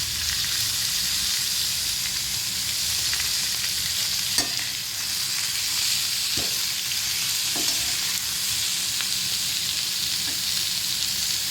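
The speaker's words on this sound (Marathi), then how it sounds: "आता आपण तेल टाकलं. आता आपण लसूण टाकणार आहे." Garlic and ginger frying in hot oil for misal, a steady sizzle running throughout with a few sharp clicks of a spoon stirring against the pan, no voices.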